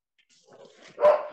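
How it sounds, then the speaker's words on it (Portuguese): A dog barks once loudly at close range after a few quieter yips and rustles, set in a quiet indoor room during a home prayer gathering. "cachorro latindo"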